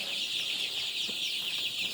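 Chickens clucking softly and pecking close by, a steady bright chatter of birds feeding without any talk.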